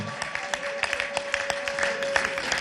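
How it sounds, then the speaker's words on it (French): Audience applause for a couple at a Valentine's Day celebration event, a steady wash of many hands clapping fairly close, with a faint sustained tone running underneath. "On applaudit"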